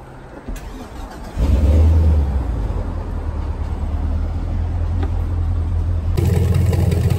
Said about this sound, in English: All we have left is to start the engine of our Mastercraft